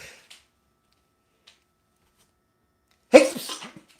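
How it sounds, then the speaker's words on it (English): Near-silence with a couple of tiny clicks, then one sharp, loud sneeze near the end, close to the microphone. "I'm going to sneeze"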